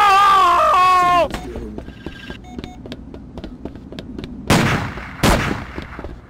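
Gunshots in the video game Stubb the Zombie, with two sharp loud blasts near the end following a stretch of quieter clicks and game sounds, after a brief sung or wailing voice at the start.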